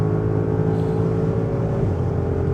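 A 2025 Audi SQ8's 507 hp engine drones hard under full throttle on the Autobahn, a steady loud hum with rising tones as it accelerates past 200 km/h, heard from inside the cabin.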